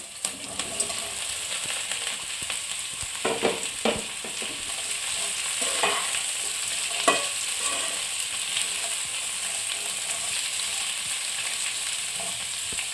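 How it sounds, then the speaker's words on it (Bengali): Finely chopped onion fries lightly in a wok with a constant loud sizzle, broken by occasional scraping stirs of a spatula, with no voices. "পেঁয়াজ কুচিটা কি লাল লাল করে না না, লাল লাল করে ভাজবো না"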